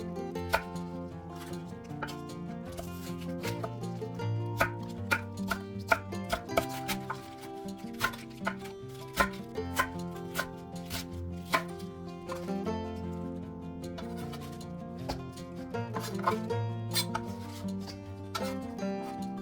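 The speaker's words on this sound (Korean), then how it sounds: "알배추 300g은 무와 비슷한 크기로 나박하게 썰어줍니다." A knife chops napa cabbage into flat, radish-sized pieces on a cutting board while making kimchi, giving a steady run of close, crisp taps over a quiet background with no talk.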